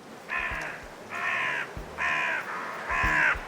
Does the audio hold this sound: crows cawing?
yes